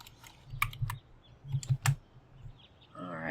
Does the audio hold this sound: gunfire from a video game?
no